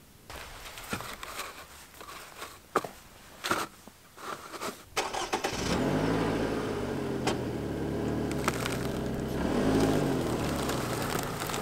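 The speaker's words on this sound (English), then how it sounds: "I'm gonna run over them right now in the car" A car starts up and drives slowly over winter car-camping accessories, a few knocks and thumps giving way to a steady, fairly loud engine rumble with slight revving.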